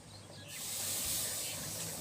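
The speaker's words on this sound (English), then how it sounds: "Got a nice sizzle on that." A steady, broad hiss of a pork roast, fat side up, sizzling on a hot grill grate, starts suddenly and holds fairly loud throughout, with no talking over it.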